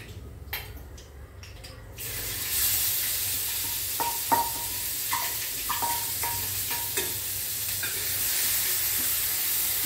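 Onion sautéing in hot oil with mustard seeds, cumin, asafoetida and turmeric gives a steady sizzle, with scattered crackles and pops and light stirring scrapes after a quieter, choppier opening couple of seconds.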